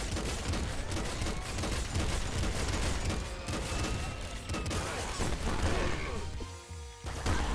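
A golden grenade revolver in Nuclear Throne fires amid constant loud crashing explosions and bursts of gunfire, a dense, chaotic barrage that fills the whole stretch with no speech.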